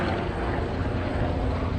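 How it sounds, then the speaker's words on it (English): A medical helicopter flying overhead near the docks, a loud steady broadband roar of rotor and engine noise that fills the short stretch without breaks or voices. "medical helicopter overhead."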